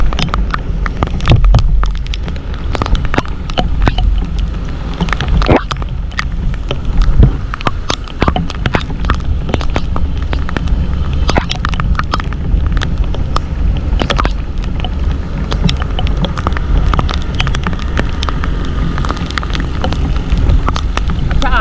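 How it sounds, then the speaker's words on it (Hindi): Heavy rain pours along Shahrah-e-Faisal road in Karachi, a dense, steady roar close to the microphone, with gusty wind buffeting and sharp crackling spatters throughout. "काफ़ी तेज़ बारिश है।"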